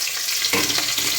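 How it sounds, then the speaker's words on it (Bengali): Garlic hits hot oil in a pan and sizzles sharply, a bright steady hiss that swells briefly as it lands, with no voices. "আর এখন তেলের মধ্যে একটু রসুন দেবো"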